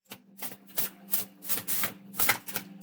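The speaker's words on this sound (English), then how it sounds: "So let's get these cards shuffled" Tarot cards being shuffled by hand in quick bursts, a series of crisp riffling and flapping sounds close up, with short pauses between.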